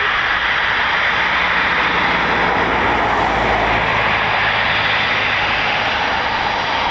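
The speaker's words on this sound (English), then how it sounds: "So 6 Typhoons up currently." A Eurofighter Typhoon FGR4 jet at RAF Coningsby roars loudly and steadily overhead, a broad continuous engine rumble with no pauses.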